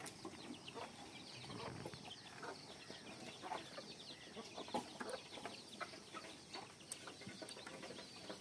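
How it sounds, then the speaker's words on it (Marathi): Hens foraging and feeding in a rural farmyard, soft scattered clucks and short calls at a moderate distance over a quiet outdoor background, with no talking. "कोंबडी भारी चरती"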